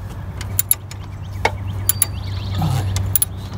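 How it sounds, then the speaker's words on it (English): Wrench loosening the pinch bolt in the engine bay of a 2002-06 Toyota Camry with the 3.0L engine, heard as several sharp metallic clicks and ratchet ticks over a steady low hum. "I believe that is called the pinch bolt. So I'm just going to loosen that."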